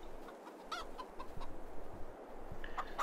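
Chickens cluck and squawk in a large henhouse in Farming Simulator 22, with several short, fairly quiet calls scattered over a soft farmyard background.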